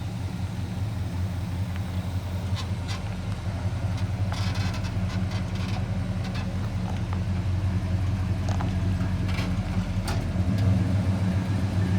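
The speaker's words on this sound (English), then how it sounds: "This truck sounds awesome." A 1970 Chevy rat-rod pickup truck with a patina finish runs steadily nearby, its engine giving a continuous low rumble that stays even throughout, with no voices over it.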